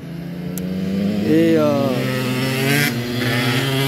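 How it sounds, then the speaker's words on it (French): Small motorbikes pass by outdoors, their engines rising in pitch as they approach, then fading under a voice, with a second bike buzzing past shortly after. "là on a des petites motos qui passent"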